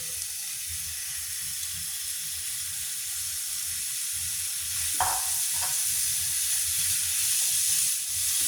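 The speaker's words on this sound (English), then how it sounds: "when that sizzles, we know it's hot" Steady, loud sizzling and crackling from a hot pan fills the whole stretch, with a couple of faint clinks partway through.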